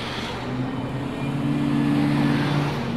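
Vehicles of a presidential motorcade with police and ambulances roll past on a street, a steady engine hum and tyre rumble that swells and holds, moderately loud without talk.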